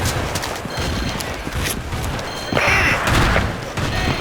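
Battlefield 2 gameplay with a frag grenade exploding amid a steady barrage of gunfire, a dense continuous roar of shots with a louder burst of blast and crackle midway.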